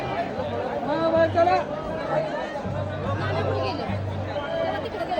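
Crowd chatter and babble at the Balumama Bhandara festival in Adamapur, a steady hubbub of many voices milling close around, with a low hum underneath throughout.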